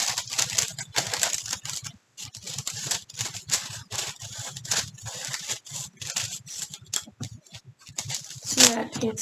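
Scissors cut through sticker paper in quick, repeated crisp snips with brief pauses, close and fairly quiet throughout.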